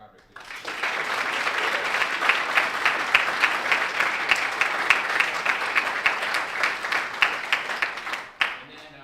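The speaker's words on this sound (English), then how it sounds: "a round of applause for the cadre, please" Steady applause from a crowd at a military commissioning ceremony, many hands clapping continuously for several seconds before it tapers off.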